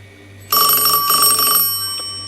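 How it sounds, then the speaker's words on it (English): A Northern Electric Contessa telephone rings with a bright, rapidly trilling bell in one loud burst of about a second, close by, then fades away. "ring of the Contessa phone"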